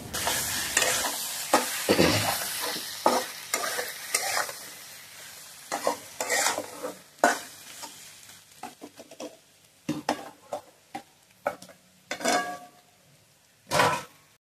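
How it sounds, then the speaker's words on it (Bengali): Spices with cumin powder, turmeric and chilli powder being sautéed in a pan, giving a sizzling fry broken by repeated scraping stirs and spoon knocks that come in irregular bursts, close and fairly loud with no talking. "এরপর একটু নেড়ে চেড়ে নিয়েই কিন্তু জল দিয়ে দিতে হবে"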